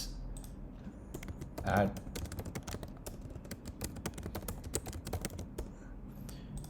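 Fast, irregular keystrokes clatter on a computer keyboard, close and crisp, with a short burst of louder key presses early on and a brief spoken word in the background.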